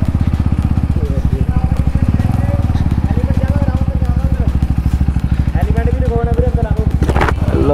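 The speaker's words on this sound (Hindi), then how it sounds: "लो भाई पार्किंग में लगा देते हैं बाइक।" A motorbike engine runs steadily with a low, rhythmic idle-like thrum throughout as it is ridden into a parking spot, with a brief burst of louder noise near the end.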